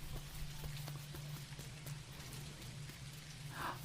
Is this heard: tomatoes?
no